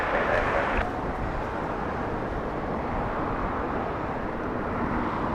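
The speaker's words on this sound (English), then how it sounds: "777 getting a move on." A Boeing 777 at LAX airport rolls along with a broad, steady jet roar, moderately loud and distant-sounding, holding evenly throughout.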